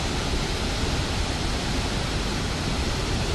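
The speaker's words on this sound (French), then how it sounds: "Donc ça c'est une belle cascade aussi." The Mia Mia Waterfalls pour with a dense, steady roar of falling water, loud and unbroken from start to end.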